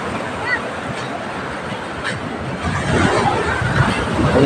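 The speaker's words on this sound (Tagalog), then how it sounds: "Ay, sarap pakinggan ang mga pagaspas ng alon." Waves washing onto a beach by a seaside resort near a fish port, a steady broad surf wash with wind, swelling louder toward the end, with faint crowd babble in the background.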